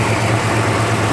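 A 1968 Plymouth Road Runner V8 idles steadily, a close, continuous low rumble with no change in pitch over a short stretch.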